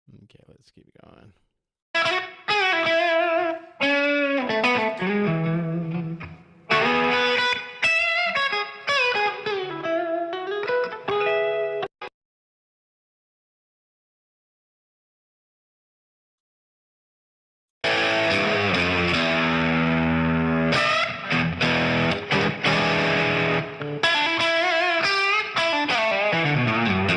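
Electric guitar through a distortion pedal plays loud, gritty riffs and sustained chords, stopping abruptly for several seconds of silence before crashing back in with dense, crunchy strumming.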